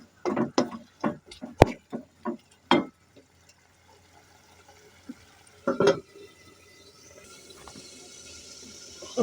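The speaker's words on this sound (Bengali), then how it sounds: "ভালোভাবে কষিয়ে ফেলতেছি আমি" Food being stirred and sautéed in a pan, heard as a quick series of close scraping and tapping strokes, then a quiet pause and another short cluster of strokes over a faint frying hiss.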